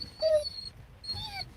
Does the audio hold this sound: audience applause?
no